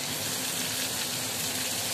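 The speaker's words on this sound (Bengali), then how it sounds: "ঝিরি ঝিরি করা বাঁধাকপিগুলো দিয়ে দিচ্ছি।" Shredded cabbage hits hot oil in a pan with fried potatoes, dried chilli and bay leaf, and a loud, steady, hissing sizzle follows, with no talk.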